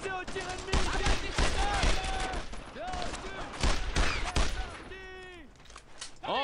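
Gunfire in the World War II shooter Brothers in Arms: Earned in Blood, with loud repeated bursts of rifle and machine-gun shots and impacts coming in clusters, mixed with shouted voices and other battle noise.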